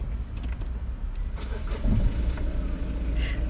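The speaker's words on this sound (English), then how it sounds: "So this is the inaugural start." A Citroen Dispatch van's engine turns over and catches, settling into a low, steady idle heard from nearby, with faint clicks and rattles around the start and no talking.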